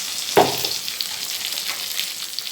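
Onions frying in hot mustard oil for begun sorshe, a broad steady sizzle with a sharp crackle at the start as they hit the pan, continuing at an even level throughout.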